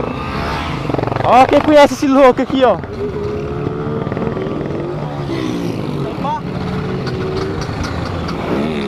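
A new Honda XRE motorcycle engine revs sharply in several rising and falling bursts, then settles into a lower idle, while someone talks nearby.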